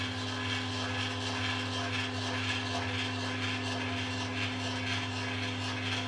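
A Bolton Tools ZX45 CNC mill moves on all three axes, giving a steady mechanical whir with a constant low motor hum that continues without pause.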